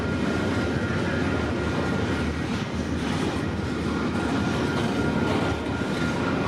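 A freight train with distributed power unit locomotive 7010 rolls past, a loud steady roar of wheels and cars filling the whole stretch without letup.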